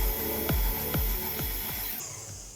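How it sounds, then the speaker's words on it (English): An electric stand mixer whirs steadily on high speed while whipping batter until light and airy, with a low motor drone and regular thumping pulses about every half second, then the pitch shifts near the end, with no talking. "Turn off your mixer"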